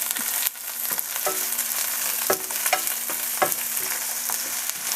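Onions sauté in oil in the same pan used earlier for frying liver, giving a steady close sizzle. Repeated scraping and tapping from a spatula stirring the onions punctuates it, with no talking.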